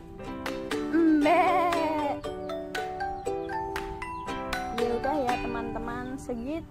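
Goat bleating, a couple of loud wavering cries near the start followed by shorter bleats later, heard up close outdoors with no talk over them.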